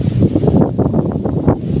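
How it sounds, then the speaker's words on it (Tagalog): Strong wind on a mountain roars and buffets the microphone continuously, a loud rushing gust with no voices. "Ang lakas ng hangin."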